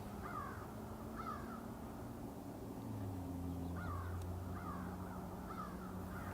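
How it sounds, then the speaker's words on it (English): Distant crows cawing repeatedly in short hoarse bursts, faint against a constant low hum of far-off highway traffic in an open outdoor setting. "We can hear some birds, of course."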